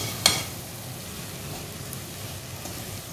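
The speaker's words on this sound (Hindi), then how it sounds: "इसको थोड़ा सा मिक्स करते हैं।" Milk powder mixture being stirred in a pan on the stove: one short clack near the start, then a soft, steady scraping and shuffling texture, faint and close, with no talking.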